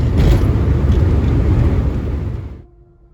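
Car driving along a highway between Toronto and Quebec City, a steady low road rumble and tyre noise that fades out sharply near the end.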